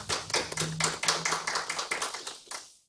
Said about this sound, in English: shall we all give a round of applause to our panelists?